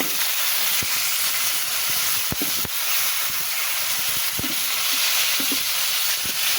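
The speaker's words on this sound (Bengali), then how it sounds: "মাছ তো দিয়েছি, এক পিঠ ভালোভাবে ভাজা হয়েছে, এবার আর এক পিঠ ভাজা হচ্ছে।" Tilapia fish fries in hot oil in a pan, giving a loud, steady, dense sizzle that runs throughout with a few faint clicks and no voices.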